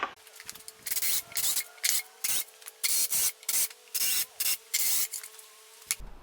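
A blunt Forstner bit bores shallowly into reclaimed timber in a string of short, rhythmic rasping bursts, each broken by brief gaps, close and fairly quiet.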